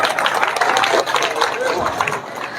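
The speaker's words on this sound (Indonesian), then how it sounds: "Iya, tepuk tangan dulu." Audience at an Indonesian religious sermon breaks into applause, a dense, steady wash of clapping close and loud for the whole stretch, with crowd noise and voices mixed in.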